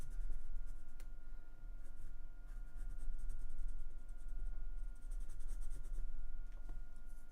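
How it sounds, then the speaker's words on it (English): A dark brown pencil scratches steadily across paper in continuous strokes, close and clear, with a low hum underneath. "Just try and grab a dark brown pencil."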